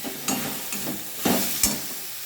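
Cumin, coriander, turmeric, Kashmiri red chilli and garam masala powders sizzle in a pan with soft tomato for a rohu fish curry, stirred in several scraping bursts over a steady close fry.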